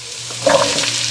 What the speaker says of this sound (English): Finely diced onion going in.